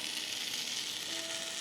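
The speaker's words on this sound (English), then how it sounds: "Hear that sizzle, baby." Pork belly lollipops sizzle on a Ninja Foodi grill, a soft steady crackling hiss heard close up without talking.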